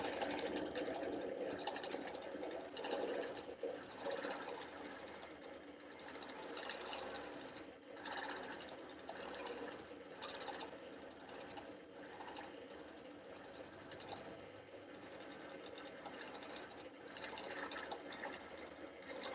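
A quilting machine stitches a crosshatch pattern along a quilt border, its fast, even needle chatter running continuously at moderate volume with brief pauses and restarts, no talking.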